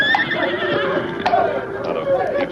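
Horse neighing in a radio drama set in the Old West, a loud high whinny near the start followed by further whinnies and snorts, with light hoof clopping underneath.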